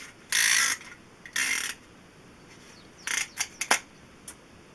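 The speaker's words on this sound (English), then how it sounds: "we use our piston ring compressor to tighten the rings against the piston" Piston ring compressor on an 8N engine piston, clicking and ratcheting metallically as it tightens the rings: two sustained rasping bursts, then a quick cluster of short clicks and a final faint tick, close and distinct in a quiet room.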